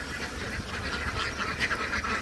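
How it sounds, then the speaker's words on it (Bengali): A large crowd of ducks on a duck farm in Bahrain keeps up a steady, dense chorus of overlapping quacks close by. "প্রচণ্ড পরিমাণ হাঁস আছে,"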